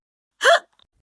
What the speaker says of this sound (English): Some people think that you can make hiccups go away by giving the person a shock.